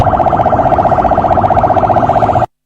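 A loud, close electronic ambulance siren pulses in a fast, steady warble for about two and a half seconds, then cuts off abruptly.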